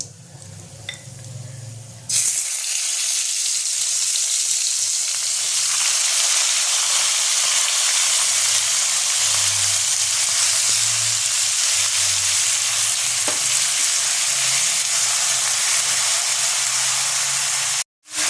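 Mutton goes into a pan of hot fried spices for Kashmiri rogan josh: a sudden loud, hissing sizzle erupts and holds steady for many seconds with faint low scraping beneath, then cuts off abruptly at the end.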